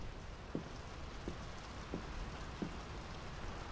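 Steady rain falls in the video game Draugen, a dense even hiss with a few soft drips standing out, and no voices over it.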